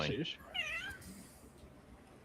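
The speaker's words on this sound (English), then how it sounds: "That was a cat" A cat named Minnie gives a short, bright meow near the start, then a longer rising meow, with a brief spoken word over the beginning and quiet room tone afterward.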